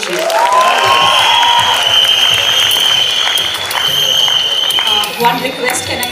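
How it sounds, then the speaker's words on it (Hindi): A college audience claps and cheers in loud, dense, continuous applause that carries on steadily for several seconds, filling the hall up close. "तालियां बजती रहनी चाहिए।"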